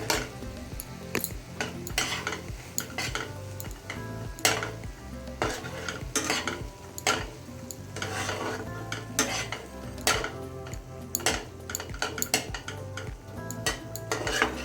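Pointed gourd frying in a pan with turmeric and mustard, a steady sizzle under frequent scraping and clinking of a metal spatula as it is stirred, close and continuous.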